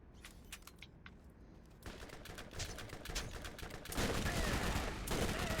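Video-game gunfire from a shotgun in Borderlands: a rapid series of sharp shots, sparse at first then denser and louder, ending in a sustained, heavy burst of fire with no talk over it.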